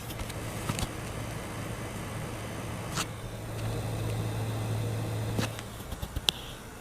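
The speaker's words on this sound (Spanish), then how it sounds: "Os dejo con la sinfonía del Coil Wine." A faint, steady electrical coil whine from a PS5 console hums continuously beneath quiet room noise, with a few soft clicks and a brief high-pitched squeal near the end.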